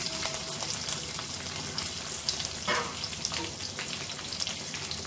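Dried red chillies, ginger, green chillies and onions frying with cumin and urad dal for rava upma, giving an even, constant sizzle with light stirring, soft and close.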